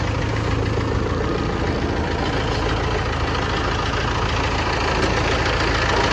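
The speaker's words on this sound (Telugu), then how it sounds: "మీకైతే ఇది ఇంజన్ చూపిస్తా ఒకసారి చూడండి" A jeep's DI diesel engine idles close by, giving a steady, continuous low rumble with a faint knocking texture and no voices.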